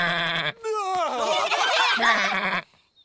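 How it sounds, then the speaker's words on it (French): A cartoon sheep bleats in a long, wavering, close and loud cry lasting about two seconds, after a short sung tone, ending in near silence. "Le mouton a dit bé."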